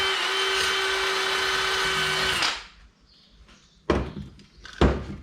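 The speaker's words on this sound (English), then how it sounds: "So just a little bit of a wire wheel." Small brass wire wheel on a power tool grinding rust off a 1951 Chevy window track, a loud, steady whirring scrape that cuts out after a couple of seconds, followed by two sharp knocks and handling clatter.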